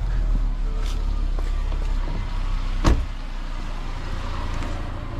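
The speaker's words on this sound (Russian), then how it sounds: "Слышите, мотор работает идеально." Quiet, even engine idle from inside an Infiniti QX30, a steady low hum broken by a single sharp click partway through.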